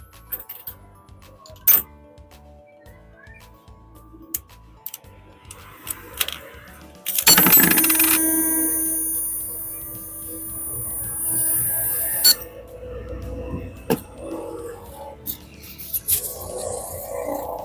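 A homemade coin-operated water vending machine starts up, its pump and timer giving a steady broadband whirring hum for about five seconds, preceded and followed by scattered clicks and knocks close to the mic.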